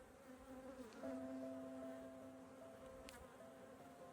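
Honey bees buzz steadily as they are shaken off a hive frame during a colony inspection, a dense close drone with a brief rise in intensity.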